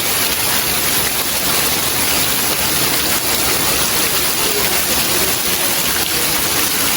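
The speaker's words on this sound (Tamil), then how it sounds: "கட்டு மழை பெய்யுதானே" Heavy monsoon-style rain pours steadily in Jaffna, Sri Lanka, a dense, loud, unbroken hiss of water with no pauses, close and all-enveloping.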